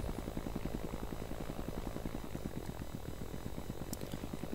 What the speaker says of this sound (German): Einmal bitte den Heli landen.